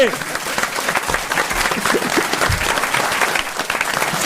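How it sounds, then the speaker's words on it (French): A studio audience at the Alpe d'Huez festival breaks into dense, sustained applause for a guest, loud and continuous throughout, with a voice briefly audible over the clapping crowd. "On peut applaudir et remercier Fabien Antoniente."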